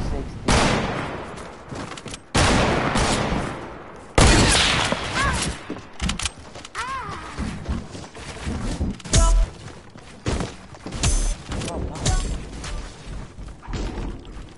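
Gunfire bursts in a multiplayer shooter video game, loud repeated shots and thuds in quick clusters throughout, with players talking over the action.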